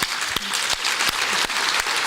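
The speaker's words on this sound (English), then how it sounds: "let's give them a round of applause" A brief burst of audience applause at a public conversation event, dense clapping filling the room, broken by a few sharp louder claps close by.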